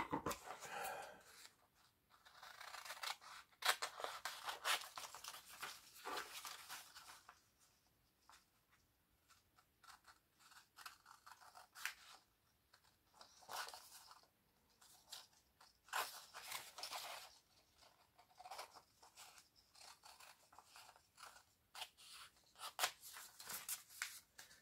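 Scissors cutting out a paper card holder template for leather crafting, with close, irregular crunchy snips and paper rustling in bursts across the whole span.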